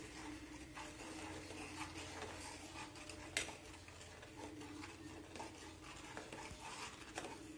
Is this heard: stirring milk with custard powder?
yes